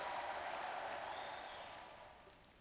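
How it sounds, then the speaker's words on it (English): A crowd in the video game World of Warcraft cheers and applauds in a dense, steady wash that slowly fades toward the end, with no clear talking. "I could hear the cheers from here."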